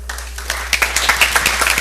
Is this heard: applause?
yes